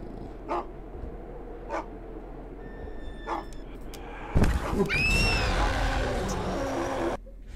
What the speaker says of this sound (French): J'ai plus envie de l'écouter, le chien, vraiment.